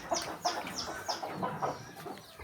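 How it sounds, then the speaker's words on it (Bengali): Newly hatched native domestic chicks peep and cheep in a quick, repeated series of bright calls, close by with a little background noise. "আর যে বাচ্চা কিন্তু চিলাচিলি করতেছে অলরেডি"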